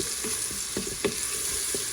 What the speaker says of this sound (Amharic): ሽንኩርቱ እንደዚህ ጠበስ ለስለስ ካለልን